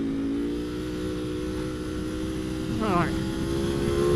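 Ducati Panigale V4 SP2 motorcycle engine hums steadily under a rider's talk, then a brief rev and shift is heard as he short shifts, with wind rush throughout.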